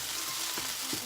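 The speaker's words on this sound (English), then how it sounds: "it starts to make this really signature or characteristic popping sound" Vegetable fried rice frying in a pan, a steady close sizzle with a couple of soft pops over about a second.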